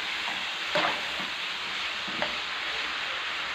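Steady close sizzling of papaya stir-fried with pork in a hot pan, with a couple of soft scrapes as it is stirred, no talking.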